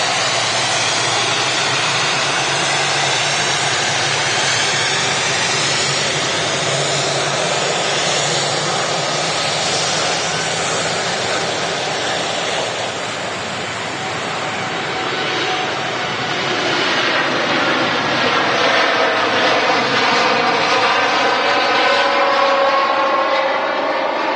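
Jet airliners, including a Boeing Dreamliner taking off, at Manchester Airport, a loud sustained engine roar with shifting whine that dips midway then swells again as the aircraft rolls, no talk.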